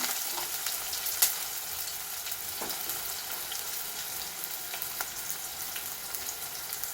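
Sliced onions sauté in hot oil in a pan for a Hamour fish curry, giving a steady, moderate sizzle with scattered pops and a stirring scrape, close and without voices.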